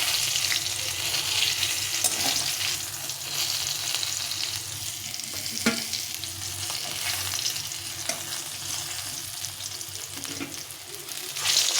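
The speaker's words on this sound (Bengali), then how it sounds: "দেখো মাছগুলো সুন্দরভাবে ভেজে নিতে হবে" Fish steaks and pieces frying in a pan crackle and sizzle continuously at close range, with faint scraping and stirring knocks now and then and no voices.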